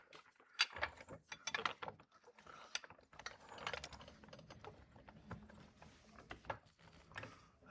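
Rapid ratcheting clicks from a jack lifting one corner of an MK4 Volkswagen GTI, coming in close, uneven bursts amid light shop clatter.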